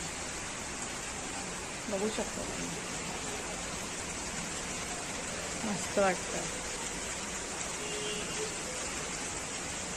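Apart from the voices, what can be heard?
rain falling outside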